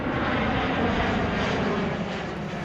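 A fixed-wing aircraft passes near Glasgow Airport with a loud, steady engine roar that stays broad and constant throughout, with no voices.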